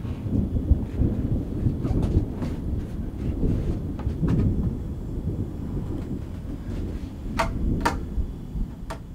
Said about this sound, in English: Crazy thunder, can you hear that?